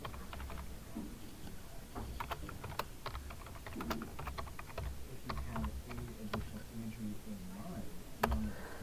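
Soft keystrokes tap on a computer keyboard in irregular bursts, quiet and close, with a person speaking over them.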